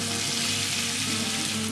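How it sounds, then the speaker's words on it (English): Onions sautéing in a pan, a steady close sizzle with an even hiss throughout and no pauses, no voices. "you're just going to saute the onions off until they become reasonably transparent"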